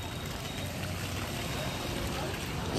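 Heavy rain pouring down outdoors, a steady dense wash of noise that stays loud and unbroken throughout, with no clear talk over it.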